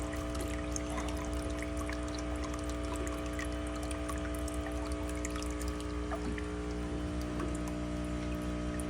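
Water from a fish tank being poured into a plant, a steady trickling splash over a constant low electrical hum.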